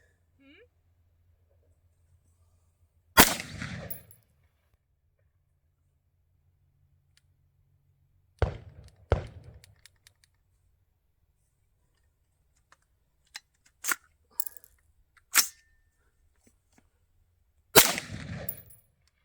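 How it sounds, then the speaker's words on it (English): A gun trigger with a faulty reset is pulled repeatedly in quiet surroundings, giving sharp, isolated mechanical clicks and snaps spaced seconds apart, some single and some in quick pairs, close and crisp against near silence. "That trigger is not resetting."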